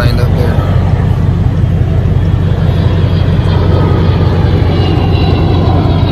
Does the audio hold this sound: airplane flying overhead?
yes